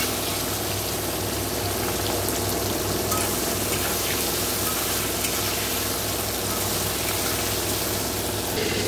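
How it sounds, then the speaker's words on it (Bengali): Shrimp frying in hot oil in a home kitchen, with a steady dense sizzle and bubbling throughout and occasional stirring, no talk. "তো সেটা আগে ভেজে নিই চিংড়ি মাছটা।"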